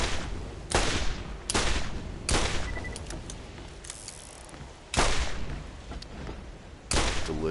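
Heavy gunshots in the shooter Borderlands, loud booming blasts spaced a second or so apart with ringing tails and mechanical clicks between them, no speech.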